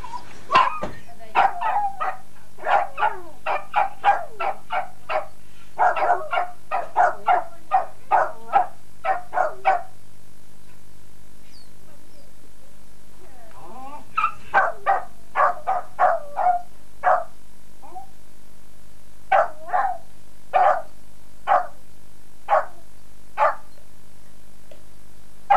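Dog barking in bursts of sharp, repeated barks, fairly close and loud, with short pauses between runs; the barking continues through the whole stretch in Spain in the early 1990s.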